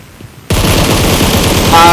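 Rapid gunfire bursts out suddenly after a quiet moment in a battle royale video game, loud, close and sustained in quick repeating shots.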